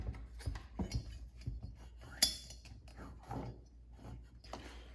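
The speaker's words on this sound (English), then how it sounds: "That's just the noise you're hearing there is just rubbing on the shroud here." On a Husqvarna 455 Rancher chainsaw being upgraded with a Husqvarna 460 Rancher top end, a part rubs against the shroud, giving a series of close, quiet mechanical clicks and scrapes with one sharp knock partway through.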